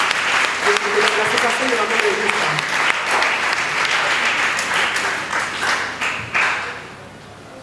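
An audience at a gathering on discrimination against women, held for the mothers' association of ISTA, gives sustained applause from many hands. The clapping stays steady, then thins toward the end while a voice speaks over it.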